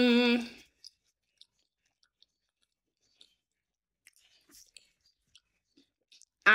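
Someone chews a homemade biscuit after a brief hummed murmur, leaving faint, sparse crunchy clicks and soft mouth sounds close up in near silence.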